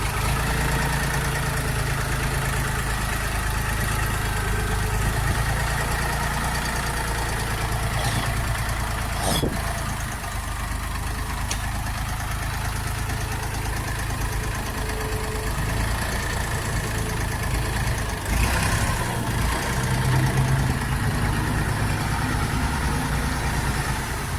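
A Jinma 244 tractor engine idles steadily on a test lot, a continuous low rumble with a faint knocking quality, holding an even level throughout with no talk over it.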